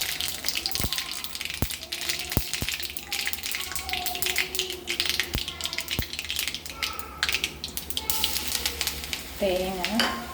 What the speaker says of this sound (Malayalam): ചീനച്ചട്ടി അടുപ്പത്ത് വെച്ച് വെളിച്ചെണ്ണ ഒഴിച്ച് കൊടുത്തു. കുറച്ച് കടുക്,